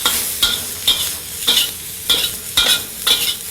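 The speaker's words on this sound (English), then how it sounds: "Now we're going to fry them up" Sliced celery and cabbage, with carrots, frying in a pan, a steady sizzle broken by about seven regular stirring scrapes, each a bright rasping burst roughly every half second, close up and with no voices.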